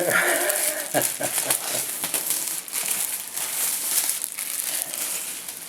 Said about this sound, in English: Unwrapping.